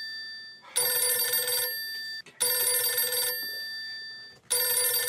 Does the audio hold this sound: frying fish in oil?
no